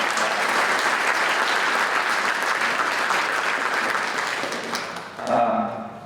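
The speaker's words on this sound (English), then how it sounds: "they deserve a big round of applause" A large audience claps loudly and continuously at a community gathering, the dense applause holding steady before tapering off near the end as a voice begins to speak.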